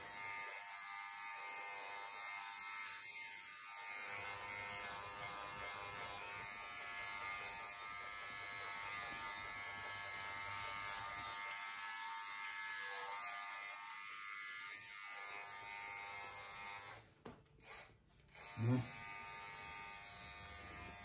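Electric clippers run steadily on a terrier mix's harsh coat, a continuous close buzz that hums on throughout with a few brief handling knocks near the end.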